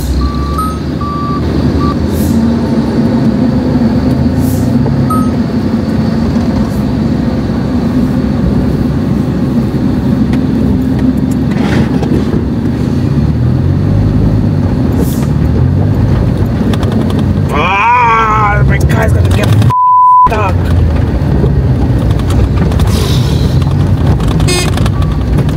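A car jolts over a bumpy, potholed road in Senegal between Dakar and The Gambia, producing a loud, steady rumble and rattle throughout, with a brief beeping tone near the end.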